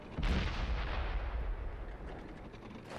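A tank cannon fires in the Xbox 360 edition of World of Tanks during T110E5 gameplay: one sharp, heavy blast that rolls into a long, rumbling decay, loud and close with no voices.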